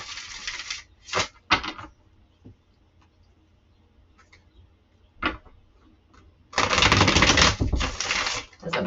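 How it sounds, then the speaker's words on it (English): Tarot cards are riffled and shuffled by hand, with short crisp bursts of flapping, clicking card noise near the start, scattered soft taps in between, and a longer, louder shuffle toward the end. "As I'm shuffling"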